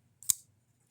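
A single quick, crisp slice as a knife cuts through a sheet of paper, sharp and close, then silence.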